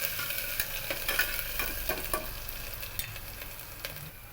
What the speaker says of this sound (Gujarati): આદુ લસણની પેસ્ટ નાખી દેવાની છે. તે સારી રીતે સાતરી લેવાનું છે.